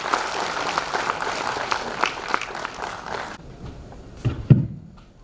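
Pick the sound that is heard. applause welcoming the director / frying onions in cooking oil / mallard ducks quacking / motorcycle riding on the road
applause welcoming the director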